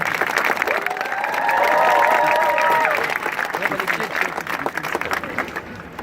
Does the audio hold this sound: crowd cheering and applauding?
yes